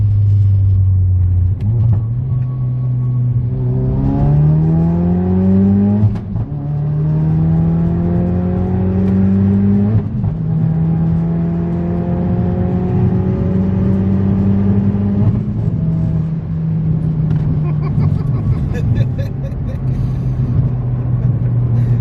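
A Ford Focus RS accelerates hard on a tree-lined road, its engine note rising through the revs, dropping at each quick gear change and climbing again. The rumble is loud and continuous from inside the car.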